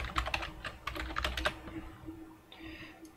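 Keys clatter on a computer keyboard as a title is typed, a quick run of crisp taps in the first half, then a pause with a faint soft tone and low room hum.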